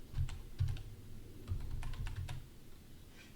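Typing on a computer keyboard, a short burst of quiet, close key taps in an uneven rhythm with a brief pause, then a few more light clicks in a quiet room.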